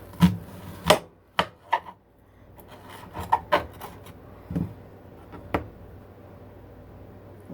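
A knife chops an onion on a wooden board: a quick cluster of crisp, close chops, then scattered softer cuts and rubbing, with no talk.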